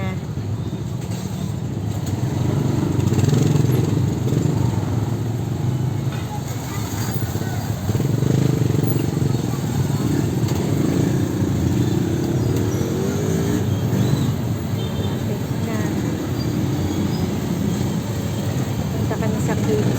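Early-morning street traffic at a crossing, with cars and motorcycles passing steadily at moderate distance, a continuous low engine rumble throughout with some nearby voices mixed in.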